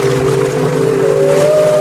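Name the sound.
whale cry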